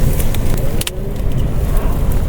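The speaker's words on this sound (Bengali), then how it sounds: "তো গাড়িতে করে চলে আসলাম শ্রীনগর রেলওয়ে স্টেশনে" A car on the road to Srinagar railway station, its engine and road rumble loud and close, a constant low drone with faint ticks on top.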